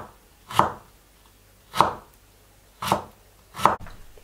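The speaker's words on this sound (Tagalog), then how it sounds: "Hiwa po tayo ng luya." Knife slicing ginger on a cutting board: four crisp, separate chops spaced roughly a second apart, close and clear against a quiet background.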